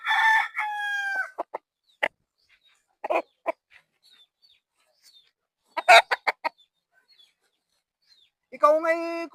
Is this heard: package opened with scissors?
no